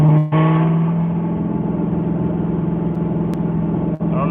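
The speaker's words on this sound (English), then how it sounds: "The car is driving." A car drives along a road with a steady engine drone and a loud low hum heard from inside, with brief dips near the start and end and no voices.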